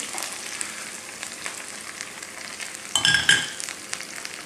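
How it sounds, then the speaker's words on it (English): Vegetables hit hot oil seasoned with hing and quick-fry with a steady crackling sizzle, with a sharper burst of spitting and scraping as they are stirred partway through. "And we need to just fry it for a minute, quick fry."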